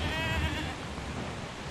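A goat bleats in the horror video game Mundaun, a wavering, moderately loud call at the start that trails off over a soft background.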